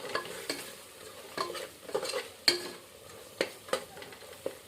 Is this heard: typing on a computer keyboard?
no